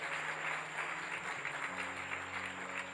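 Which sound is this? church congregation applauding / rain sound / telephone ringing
church congregation applauding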